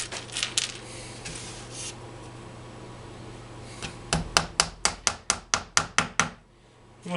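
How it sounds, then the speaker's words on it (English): A hammer drives brass nails into pre-drilled softwood, starting with a few scattered taps and then about ten sharp, evenly spaced blows in quick succession, close and clear. "with the holes being pre-drilled, nails go in nice and straight and easy"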